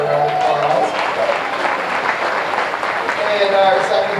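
Crowd at a junior swine show applauds in a steady, wash-like round for a first-place winner, with a voice briefly audible at the start and end.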